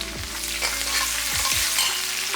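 Ginger, green and dried chillies and curry leaves fry in hot oil with a steady close sizzle, broken by a few sharp stirring scrapes of a spoon in the pan.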